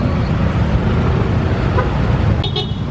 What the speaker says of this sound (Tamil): டிராஃபிக் ரொம்ப மோசமாக இருக்குங்க.